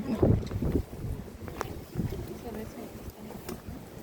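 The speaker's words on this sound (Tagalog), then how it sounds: "Uy, mahangin naman." Gusty winter wind in Turku, Finland buffets the microphone in low rumbling bursts while people talk nearby.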